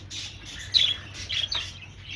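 Budgerigars in a breeding aviary give a few brief, moderately faint chirps and tweets over a low steady background hum, with no voices.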